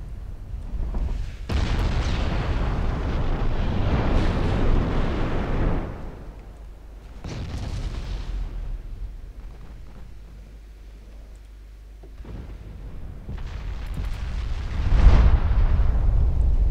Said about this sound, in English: All of Congo's casemate ammo exploded